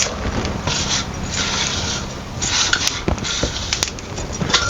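Poppy seeds stirred and roasted with garlic in a hot pan for a Solapuri amti, a close, loud dry scraping and rasping of the spatula with faint sizzling, in uneven strokes.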